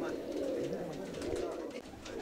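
Pigeons cooing on Santorini, a steady low murmur of soft coos running continuously under faint background voices.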